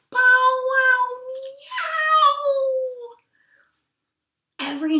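A voice imitates a dog-cat hybrid call, a drawn-out howl crossed with a meow, in two long wavering cries that trail off into silence before a brief spoken word at the end.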